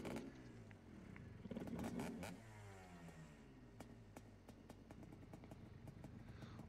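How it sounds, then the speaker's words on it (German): A Farming Simulator 22 vehicle engine, the Lizard Blaster 2000, cranks and catches, then settles into a rough, rumbling idle with clattering ticks, heard fairly quietly with no talking. "Und das war Motor an."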